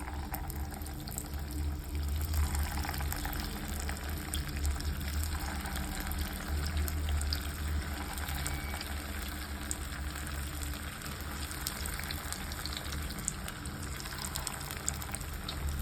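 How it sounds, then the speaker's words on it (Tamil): Soya balls frying in hot oil for Soya Kola Urundai, a steady, even sizzling hiss with faint crackle that holds unchanged throughout, close up and with no talking. "இப்போ நம்ம பொரிச்சு எடுத்துக்கலாம்."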